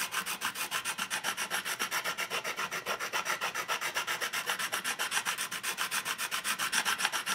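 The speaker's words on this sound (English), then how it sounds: "a flat fret sanding beam" Steady back-and-forth rasping of a flat fret sanding beam worked over the frets of a Glarry GST II guitar neck, with close, even strokes repeating quickly throughout and no talking.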